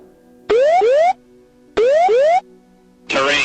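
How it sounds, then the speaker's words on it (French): Three bursts of electronic aircraft ground proximity warning tones, each pair of rising whoops repeated twice, then a harsher buzzing burst, loud and close with no talk. "L'avion n'était pas équipé du système d'alerte de proximité du sol. Vous savez, cette petite alarme-là."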